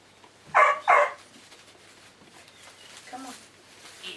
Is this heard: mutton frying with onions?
no